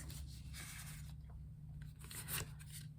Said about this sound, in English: I just want to shuffle one more time, see if anything pops.